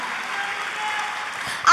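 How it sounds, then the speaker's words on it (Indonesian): A church congregation applauds in a brief steady burst of clapping, close and fairly loud, ending abruptly. "Tepuk tangannya boleh yang paling meriah."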